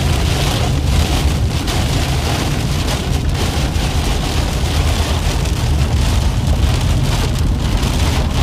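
Heavy rain pounds steadily and loudly on a vehicle during a tornado and hail storm chase on the High Plains, a dense unbroken roar with faint low rumbling beneath.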